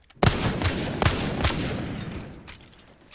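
Rapid weapon fire in Apex Legends comes as a fast burst of loud, sharp shots, several reports in quick succession that fade out over about three seconds, with no talking.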